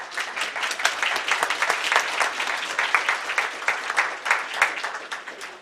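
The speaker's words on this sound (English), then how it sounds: "If we could have now a round of applause." Audience applause at a political forum at Hines Memorial, a steady dense wash of many hands clapping, fairly close and sustained throughout with no talking over it.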